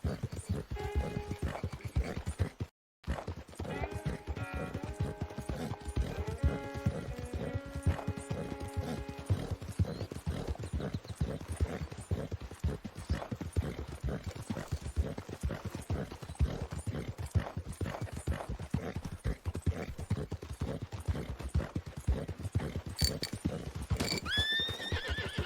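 Horse riding in a video game: steady hoof clip-clop runs throughout with repeated neighs and whinnies, loud and close, plus a brief dropout near the start and faint background game sounds.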